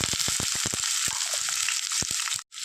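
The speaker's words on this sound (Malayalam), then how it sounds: "പച്ചമുളക് ചേർത്ത് കൊടുക്കാം സവോള അരിഞ്ഞ് വെച്ചിരുന്ന അതും ചേർത്ത് കൊടുക്കാം" Green chillies and chopped onion, added after garlic, sizzle in hot oil in a pan for a mushroom roast, a steady hiss with scattered crackles and soft spoon knocks, close and continuous until it briefly drops out near the end.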